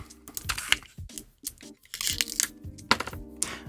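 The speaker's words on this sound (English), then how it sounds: "I got plastic that we're going to cut away" Blade cutting away the plastic jacket of a Cat5e cable, heard as close, dense crunching, tearing and crinkling bursts in an irregular rhythm, with faint tonal hum underneath.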